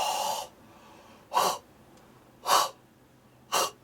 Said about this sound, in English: There goes the yawn that I usually do every clearing session.